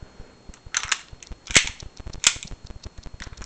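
Several sharp shots from airsoft WE Tech 1911 pistols with pops, two louder cracks standing out over a busy background of clicks and handling noise.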